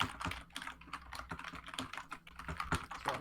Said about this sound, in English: frantic typing